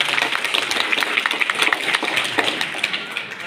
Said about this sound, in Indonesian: Coba tepuk tangan untuk semua.